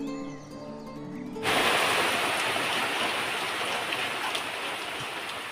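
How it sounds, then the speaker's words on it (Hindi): Steady rain falling in a village during the monsoon season, a dense continuous hiss that sets in abruptly after a quiet tonal start and holds loud and even to the end, with no talking. "लेकिन फिर लगातार कई दिनों तक ऐसी बारिश हुई"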